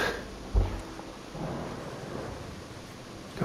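Rain and thunder in the video game Days Gone: a sharp, close thunder crack rings out early, followed by a low rolling rumble under steady, hissing rainfall.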